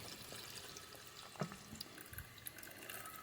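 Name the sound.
water poured over ramen noodles in a bowl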